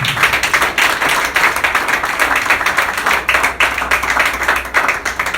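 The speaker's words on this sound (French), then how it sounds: "Acclamez très fort pour le Seigneur Jésus" A church congregation claps loudly and continuously for the Lord Jesus, a dense, steady wash of many hands applauding together with a few faint voices mixed in.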